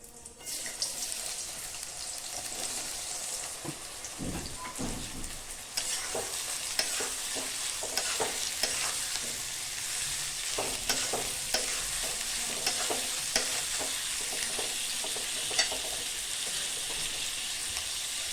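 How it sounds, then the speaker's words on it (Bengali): Four chopped onions hit hot mustard oil and hiss loudly and continuously. Spoon scrapes and light clatters from stirring run through the sizzle, with no one speaking. "আর এখানে আমি 4টে পেঁয়াজ নিয়েছি, ওটা কুচিয়ে নিয়েছি, ওটা আমি দিয়ে দেবো তেলের উপর।"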